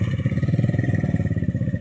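A motorcycle ridden along a rough dirt road on the way to go fishing, its engine a steady close chugging throb with rattling clatter from the bumpy ride, no talk over it.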